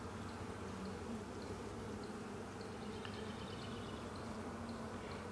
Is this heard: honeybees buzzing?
yes